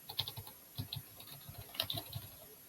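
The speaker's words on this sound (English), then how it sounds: "typing my student's name in" Rapid keystrokes on a computer keyboard while a student's name is entered into a registration form, a steady run of light clicks with no speech.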